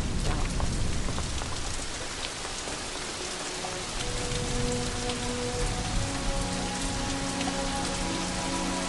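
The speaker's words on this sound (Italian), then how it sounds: "sta cominciando a piovere" Rain begins falling, a dense, steady hiss of drops on surfaces that stays even and fairly loud throughout, with faint sustained tones underneath and no one speaking.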